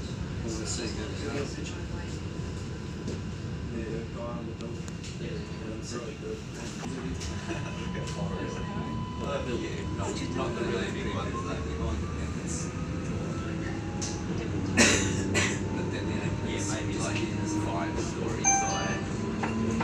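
Sydney CBD light rail tram in motion, a steady low rumble and rolling hum throughout with a brief louder clunk partway through, heard from inside the carriage.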